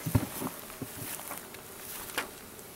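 Honey bees drone faintly and continuously at a hive, with a few soft knocks and bumps scattered through; no speech.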